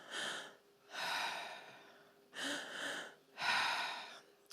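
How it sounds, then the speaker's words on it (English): Slow, relaxed breaths are drawn in and let out through the mouth during a guided breathing exercise: four soft, airy breaths, close and quiet, with pauses between them. "continue this breathing pattern for just a minute"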